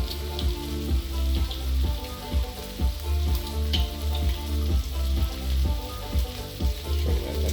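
Steady loud sizzle and crackle of an egg frying on a BBQ hotplate alongside beef burgers, continuous with a regular pulsing texture and no talk.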